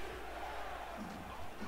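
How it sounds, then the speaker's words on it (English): A stadium crowd at a Houston-at-Dallas football game roars continuously as Dallas fans rise for third down and two, a broad steady wash of cheering with faint voices mixed in. "Dallas crowd on their feet for 3rd down and 2."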